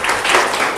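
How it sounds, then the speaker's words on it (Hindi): Studio audience applause on a Sindhi TV game show, a short dense burst of clapping filling the room, loud and steady throughout. "खैरपुर मीरस के लिए बहुत सारी तालियां हो जाए"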